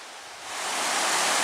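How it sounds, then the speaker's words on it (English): A small waterfall with only a light flow of water on a backpacking trail in Michigan's Porcupine Mountains, heard as a steady broadband rush that swells a little louder after a moment and then holds. "this is another one of the cool looking waterfalls. Even though there's not a whole lot of water coming down now"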